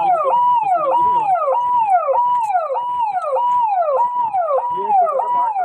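Ambulance siren wailing loud and close in a repeating sweeping up-down cycle, with no voices, as the ambulance arrives at a disaster-reduction day event in Udaipur.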